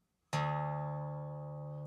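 A single guitar string, the top string lowered a tone to D for open D tuning, plucked once and left ringing clearly with a long, steady sustain that slowly fades, close and alone with no talk.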